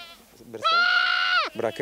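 Goats on a Gagauz farm, one long, loud, close bleat with a wavering, nasal, strongly harmonic tone lasting most of a second, framed by short softer bleats before and after.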